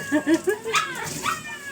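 Several high, whiny dog whimpers and short yips in quick succession before feeding, close by, with a faint voice underneath.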